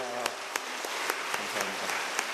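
Applause from a church congregation at a Wednesday devotional service, a steady patter of many hands with a few sharper claps standing out, moderately distant and continuous through the short moment.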